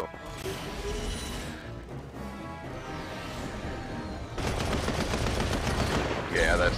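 Rapid gunfire from the Punisher's attack in the Marvel Heroes video game, bursts of shots running continuously and growing louder toward the end, with game effects layered in.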